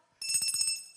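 A bright, metallic bell rings in a quick flurry of rapid strikes lasting under a second, sounding close and clear after a brief silence.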